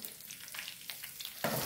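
Hot phodni (tempering) sizzles steadily, then crackles louder and fuller as it is poured over pongal, a close and continuous fry with no talk.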